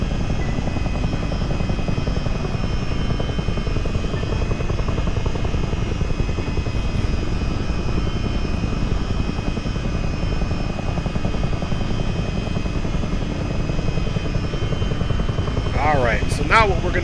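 A Boeing CH-47D Chinook helicopter in Microsoft Flight Simulator 2020 drones with a loud, constant rotor thrum and engine whine that holds steady for the whole stretch.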